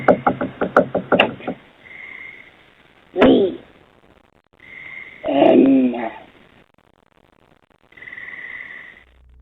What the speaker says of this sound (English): Accompanied by scratching and knocking sounds.